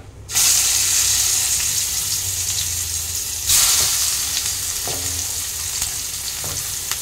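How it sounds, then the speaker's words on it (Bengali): Hilsa fish pieces fry in a pan with cardamom and cinnamon: a loud, bright sizzle bursts in as the fish goes in, holds steady, then flares again midway, with occasional light scraping. "মাছগুলো আমি হালকা করে এপিট ওপিট করে ভেজে নিয়েছি"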